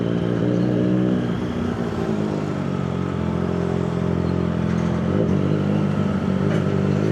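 A Triumph 765 R motorcycle rumbles steadily in close, dense Makati city traffic, its engine drone holding near and loud with a few small rev swells and surrounding street noise, no voices.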